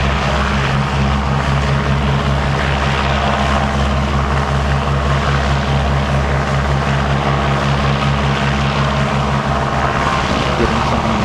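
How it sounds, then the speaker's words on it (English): Partenavia P68 propeller aircraft at an airport, a steady loud droning engine and propeller roar held throughout with no pauses, alone. "That is the P68 that you can hear."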